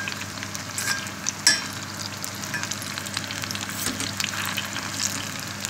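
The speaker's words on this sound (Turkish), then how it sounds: "Biraz daha kızartmak istiyorum şöylece." Cauliflower pieces sizzle in hot oil in a deep pot, a continuous crackling fry with scattered pops and an occasional stir clink, heard alone.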